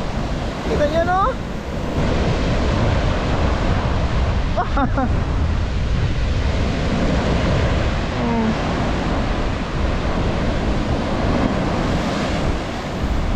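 Strong sea waves break continuously on the shore under heavy wind, a loud, dense roaring wash with surges, while someone talks briefly at moments over the surf.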